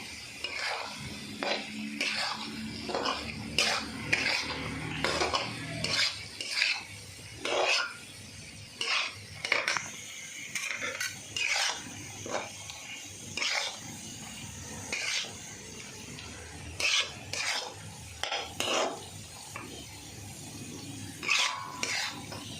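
Pointed gourd being stirred with spices in a pan, a repeated series of scraping, rasping strokes of a utensil against the metal, close and fairly steady, with no talking.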